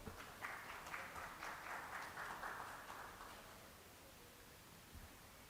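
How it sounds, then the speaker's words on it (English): Audience applause welcoming a panelist, JETRO's chief director general, onto the stage at a business session, a moderate burst of clapping that swells early, holds for about three seconds, then fades into quiet room tone. "A big round of applause for him,"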